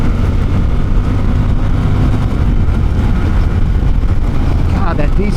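A Honda Rebel 1100 DCT SE automatic motorcycle engine runs while riding, a loud steady rumble blended with constant wind roar that stays level throughout, with a faint voice under it.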